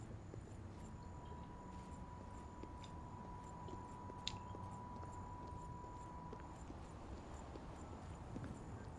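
Horse hooves clip-clop in the Oblivion role-playing game, a faint, steady run of soft regular hoofbeats beneath a constant low hum and a thin sustained tone, with no clear speech.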